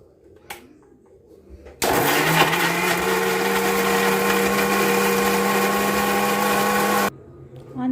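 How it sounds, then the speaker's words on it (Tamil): A mixer grinder grinding chutney roars to life and runs at a loud, steady whine for several seconds before cutting off abruptly; no talking over it. "கொஞ்சம் சூடு ஆறுனதும் மிக்ஸியை ஆன் பண்ணி"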